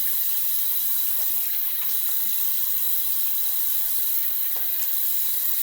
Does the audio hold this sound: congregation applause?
no